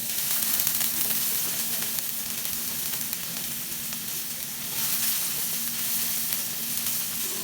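Garlic frying in a little coconut oil in a hot pan gives a steady, dense sizzle that stays close and even throughout.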